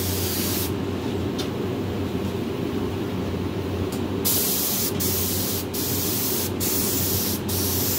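A spray gun lays down primer paint in a loud, continuous hiss, broken by a few short pauses and restarts near the end.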